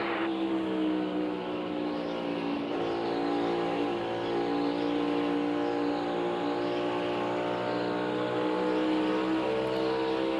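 A NASCAR Cup Series race car circles Darlington during practice, its engine holding a loud, steady, high-pitched roar with slight pitch swells as the car runs around the track, heard without talk.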